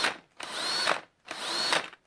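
A drill spins a Gunson valve lapper to lap the valves of a 1993 Range Rover engine, two bursts of close whirring with a rising-then-falling whine and a grinding rasp, separated by a brief pause.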